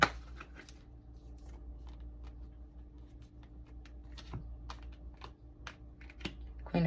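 Tarot cards are shuffled and drawn in a quiet room: soft, scattered flicks and slaps of card stock, close but faint, spaced irregularly over a low steady hum, with no talking.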